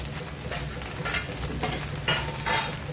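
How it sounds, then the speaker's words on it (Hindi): Veg chowmein noodles are stir-fried with green garlic in a hot pan, with steady sizzling and intermittent scraping and tossing strokes, no talking. "और इसे अच्छी तरह से मिक्स करेंगे कुछ इस तरह से"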